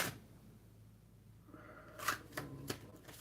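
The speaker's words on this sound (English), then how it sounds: "I'm just being guided to shuffle these ones." A deck of tarot cards being shuffled by hand, starting after a quiet stretch with a few soft riffling bursts and sharp snaps, close and fairly faint.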